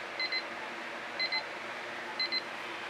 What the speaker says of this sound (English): The timer says we're done in a minute.